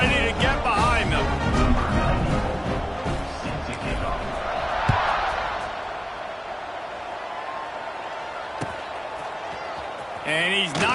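Stadium crowd noise in the College Football 26 video game, a loud roaring swell of cheering that builds and fades at kickoff, with commentary voices talking over it.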